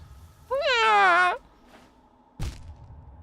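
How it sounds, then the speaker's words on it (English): A house cat gives one long, rising-and-falling meow, loud and close, followed by a brief thump; no talk. "I've tried, like, to integrate Byron with other cats and stuff"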